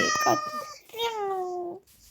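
A cat in a survival video game lets out two drawn-out, wavering meows, close and fairly loud, with a brief chattery sound before them.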